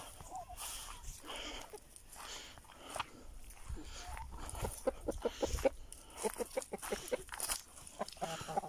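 Hens clucking in short, irregular bursts at close range, with rustling and soft pecking noises mixed in.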